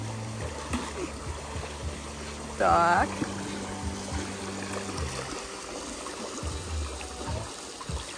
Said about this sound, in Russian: Вода, вода, вода полилась.